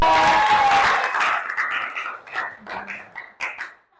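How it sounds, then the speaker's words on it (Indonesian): A burst of applause from a group, loud at first and then thinning into scattered claps and voices as it fades out. "Tepuk tangan sebelah tiga"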